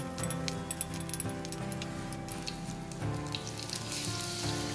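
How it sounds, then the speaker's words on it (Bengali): Egg frying in a pan with onion and green chili, a steady close sizzle and crackle with light clinking of a utensil against the pan, no talking. "পেঁয়াজ কাঁচামরিচ ভেজে নেওয়ার পরে এখন একটা ডিম দিয়ে দিলাম"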